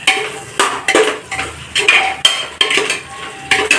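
A metal spoon stirs biryani masala in a pot with repeated clanking scrapes and knocks against the metal, in an uneven rhythm, close and loud.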